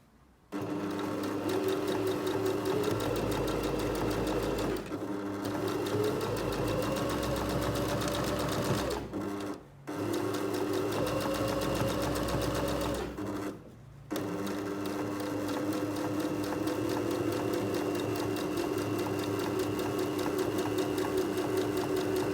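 A sewing machine runs edge stitching along a seam, a steady close whirring drone that halts briefly twice, then carries on to the end.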